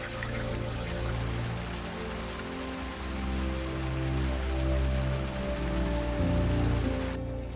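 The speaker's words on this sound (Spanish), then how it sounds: "El sonido es incesante, un rugido ensordecedor que ahoga cualquier otro sonido" Loud, steady rush of roaring river rapids in Tibet, with water forced between rock formations producing a dense, unbroken wash of noise that surges slightly.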